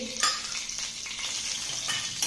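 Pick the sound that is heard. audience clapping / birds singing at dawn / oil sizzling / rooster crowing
oil sizzling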